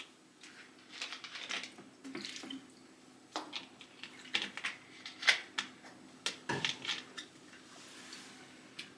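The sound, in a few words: water running from a tap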